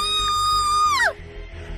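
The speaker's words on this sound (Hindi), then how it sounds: "वो डर कर चीखी।" A girl's high, sustained scream of fear, loud and wavering, then breaking off and falling away sharply into a quiet low rumble.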